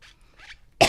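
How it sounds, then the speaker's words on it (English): A single sharp, close cough bursts out near the end after a couple of faint breathy throat sounds, loud against an otherwise quiet room. "I still have the cough."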